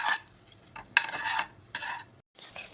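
Chopped garlic frying in a pan for a creamy pasta sauce, with bursts of sizzling and stirring scrapes broken by short pauses, close and fairly quiet.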